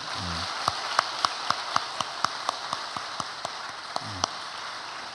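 A church congregation welcomes a new church school teacher with clapping. The claps are slow, even and sharp, about four each second, over a soft steady hiss, with no voices.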